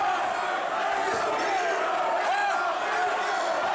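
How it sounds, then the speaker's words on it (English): A wrestling crowd at an International Wrestling Federation match roars steadily and loudly, a dense wash of shouting and cheering with no breaks and no single voice standing out. "And listen to the crowd, they are going crazy."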